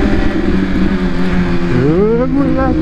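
A car engine revs up and climbs in pitch as it accelerates nearby, loud and steady, with voices and background noise mixed in.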